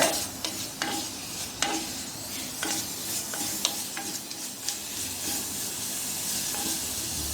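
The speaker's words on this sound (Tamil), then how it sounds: "இந்த மாதிரி ஒரு கரண்டி வச்சு இப்படி மேலே கீழமாக கிண்டுங்க" A ladle stirs karpooravalli (omavalli) leaves in a clay pot over the stove, giving a steady soft sizzle with irregular scraping clinks and taps close by.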